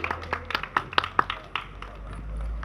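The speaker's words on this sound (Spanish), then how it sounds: "Un aplauso." Scattered, separate hand claps from an audience at a Noche Violeta women's gathering, a few sharp claps at first and then fading into low rumbling background noise.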